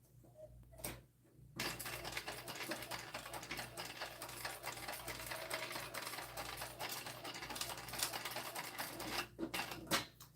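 A sewing machine basting fabric onto a bag's back panel, running in a steady, continuous mechanical whir for several seconds after a brief pause, fairly quiet and close.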